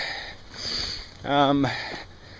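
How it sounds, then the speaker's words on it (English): A person sniffles once, a short wet nasal inhale close to the mic, set between bits of talk. "Sorry, I have a bit of a sniffle of some kind."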